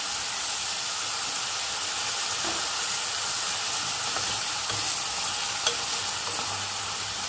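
Asparagus sizzles in a pan over a high flame for a savory tart, a dense continuous hiss and crackle with faint occasional stirring clicks, steady throughout and free of speech.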